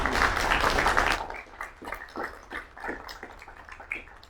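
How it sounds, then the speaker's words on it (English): Audience applause at a mayor and council meeting, a dense burst of clapping for about a second that thins into scattered, fading claps in a room. "Give them a big round of applause."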